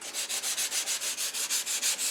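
Rapid, even back-and-forth rasping of sandpaper on a wooden spatula block, about five strokes per second, close and steady with no talking.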